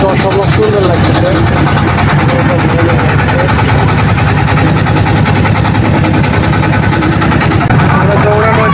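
A boat engine drones loud and close while cruising on the Jamuna river, with a steady, unbroken throb throughout and voices talking over it.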